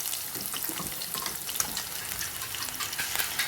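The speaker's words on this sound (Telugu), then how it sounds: "ఈ లోపు ఉల్లిపాయలు వేగిపోయాయి" Onions frying in a pan for a prawn and okra curry, a dense, steady close sizzle with faint crackles and light stirring throughout.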